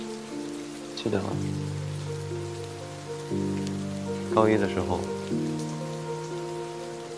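Rain falls steadily as a soft, even wash beneath gentle sustained musical notes, while a voice speaks briefly over it.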